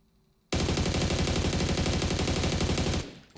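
An AUG rifle fitted with a muzzle brake in PUBG fires a rapid, loud, continuous automatic burst of about two and a half seconds. The burst breaks sharply out of near silence and then stops abruptly.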